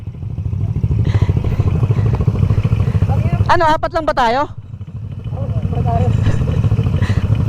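A motorcycle engine hums and revs steadily up close at a Monday GP ride in Tanay, Rizal, its drone continuing throughout while someone speaks over it briefly midway.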